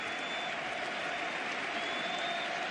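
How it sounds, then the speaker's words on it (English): Stadium crowd applauding Messi during a Real Betis versus Barcelona football match, a broad steady roar of distant clapping and cheering with a faint tone running through it. "the round of applause around this stadium"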